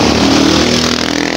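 A friend's lowered motorcycle running on an NB5 setup sounds close and loud, its engine holding a continuous rough throb through a brief burst.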